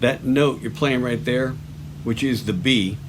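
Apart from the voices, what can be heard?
No everyday noises stand out.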